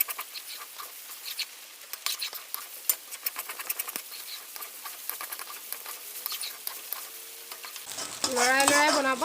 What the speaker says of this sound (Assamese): গোটেইখিনি ভালকৈ মিলাই দিম